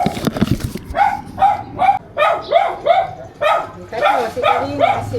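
A dog barks repeatedly during a house-to-house anti-rabies vaccination visit, with sharp, evenly spaced barks close by and people talking in the background.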